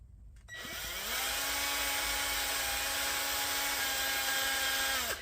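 A small high-pitched rotary drill spins up and whines steadily for several seconds, fairly quiet and close, drilling into a resin ornament, then stops, with no voices.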